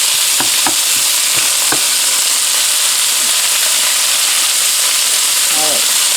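Turkey breast steaks frying in a pan with sage leaves, a loud, dense, continuous sizzle and hiss, close up, with a few faint utensil knocks and no clear talk.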